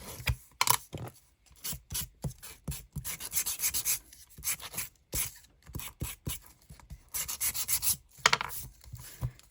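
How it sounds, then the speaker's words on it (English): Sandpaper rubs back and forth over a paper page flap tag in a craft setting, with close, scratchy strokes in an uneven rhythm and short pauses between them. "give that a sand"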